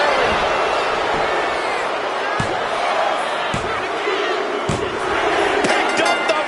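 A dense arena crowd roars and cheers in the wrestling video game WWE 2K25, with sharp slam-like hits punctuating the continuous loud din and commentary running underneath.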